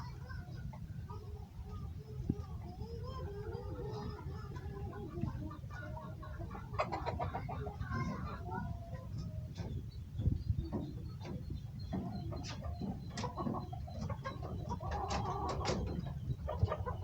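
Chickens cluck in their coops nearby, a steady run of clucks and calls over low farmyard rumble and brief movement noises, with a voice talking in stretches.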